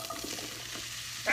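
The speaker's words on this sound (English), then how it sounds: "I threw a little bit of green pepper on there. Sizzle." Green pepper hitting hot oil in a pan on a home stove, giving a steady broadband sizzle that holds throughout and swells louder at the very end, with no talking.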